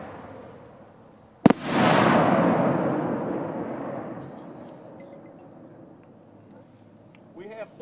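Two Dominator 2.5-inch large gold willow firework shells go off together in a single loud, sharp burst, followed by a long crackling, hissing shower that slowly fades away, with a faint voice near the end.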